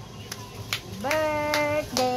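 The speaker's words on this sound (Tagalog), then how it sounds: "Palakpak." A few scattered hand claps at a child's second birthday party, with a singing voice carrying over them in a home setting.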